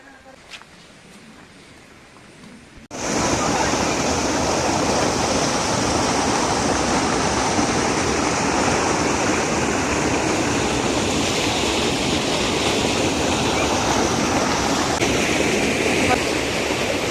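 Pathayakkund waterfall roars in a loud, steady rush of falling water that starts abruptly after a quiet opening and continues unbroken to the end.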